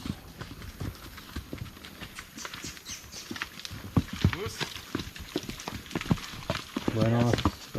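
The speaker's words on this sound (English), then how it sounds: "More horses." Horses walk along a slippery trail in the Amazon jungle, hooves clip-clopping in an irregular patter at close range, with a voice speaking over them.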